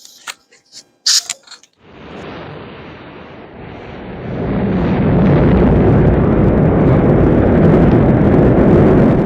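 A rocket launch: after a few brief sounds, a deep roaring rumble kicks in and swells louder, building into a sustained heavy blast that fills the rest.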